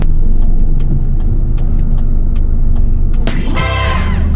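Car engine and road noise while pulling into a parking spot, steady loud rumble with short ticking clicks like an indicator, then a sudden loud burst of hiss near the end.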